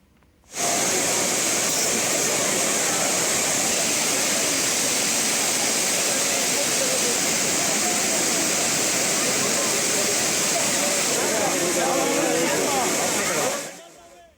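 Courtallam waterfalls in Tamil Nadu on New Year's Day, a loud, steady, broadband roar of falling water that holds constant for about thirteen seconds before cutting out.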